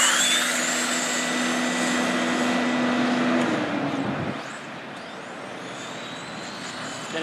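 Dromida DT4.18BL brushless RC trucks race off together, a high electric whine building loud and close before fading away as they speed off.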